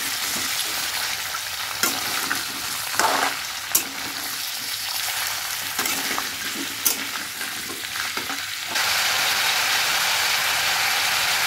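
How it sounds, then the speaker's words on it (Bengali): Mixed winter vegetables being stirred in a pan, a continuous sizzle with scraping spoon strokes and a few sharp clinks. A louder, steady hiss takes over near the end. "এবার সমস্ত সবজিগুলোকে বেশ ভালো করে একটু মিশিয়ে নিচ্ছি।"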